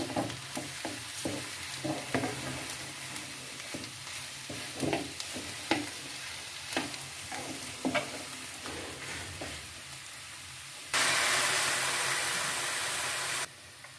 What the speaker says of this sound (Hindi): और इसको हम अच्छे से मिक्स कर लेंगे।